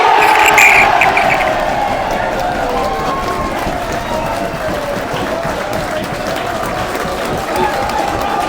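A crowd at a rugby match roars and cheers after a kick chase, loudest at the very start and then holding as a broad sustained wash of voices with some applause.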